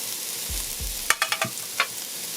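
Minced garlic and chopped hot pepper hit hot oil in a pot over medium heat, giving a steady sizzle broken by a quick series of scraping stirs and clicks against the pot.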